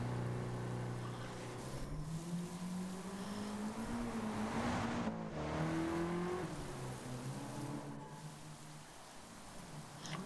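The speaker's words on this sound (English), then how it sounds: "What is that car?" Racing video game car engine droning and revving with shifting pitch, steady and loud throughout, layered over a constant rain-like hiss.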